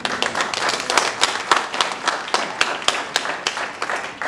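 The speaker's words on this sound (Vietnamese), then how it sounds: "Xin quý vị cho anh Sinh một tràng pháo tay" Audience applause at a Vietnamese community theatre production, a dense, steady burst of many hands clapping that holds at an even level for the full few seconds, with no voices over it.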